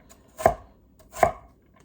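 Carrot, celery and onion being finely chopped with a knife on a board for ragu, two sharp, close knife strikes spaced under a second apart with quiet between.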